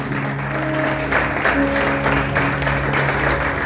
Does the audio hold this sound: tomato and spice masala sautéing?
no